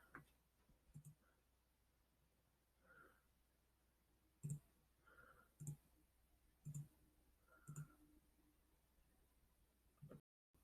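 Computer mouse clicking on a lighting console magic sheet, a handful of sharp isolated clicks spaced a second or so apart over near silence, close and faint.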